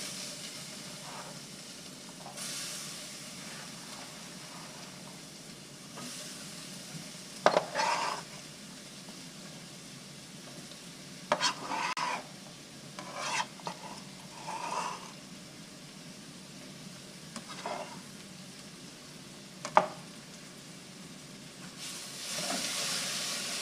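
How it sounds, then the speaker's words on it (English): Vegetables being stirred into a dark browned roux in a pot after the heat is turned off: scattered clinks and scrapes of a utensil against the pot over a soft, steady hiss. "once I got the roux browned to the color I want, I'll turn the heat off and I'll stir in my vegetables."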